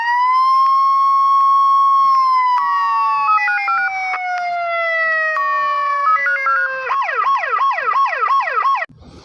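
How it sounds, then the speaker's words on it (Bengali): Police walkie-talkie siren 1 sound played from a mobile app: a loud electronic siren with a long falling wail, then stepped warbling tones, then rapid repeating whoops before it cuts off abruptly. "তো আমরা সাইরেন 1টা ক্লিক করে দেখি কি বাজে।"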